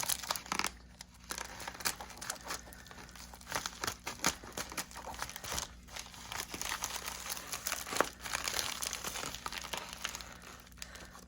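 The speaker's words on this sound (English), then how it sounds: "So let's tear into this first one." Bead shipping package being torn open and handled: continuous close crinkling and crumpling of plastic and paper with sharp ripping bursts throughout, no talk.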